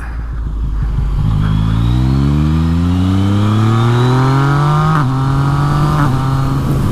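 A motorcycle with a quick shifter accelerates hard nearby, its loud engine note climbing steadily through rising revs with brief dips at each rapid upshift, continuous and without speech.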